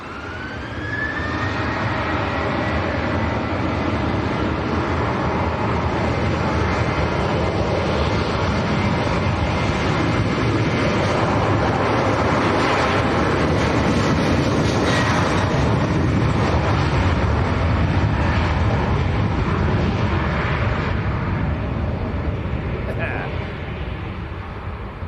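A Jet2 Airbus A321neo on its takeoff roll at Leeds Bradford Airport, with a steady jet engine roar that swells and holds loud for the whole stretch while a person talks over it.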